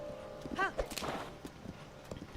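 Horse hooves clip-clopping in Zelda: Tears of the Kingdom, with a few soft hoof beats and a short whinny-like call, heard faintly under a person talking.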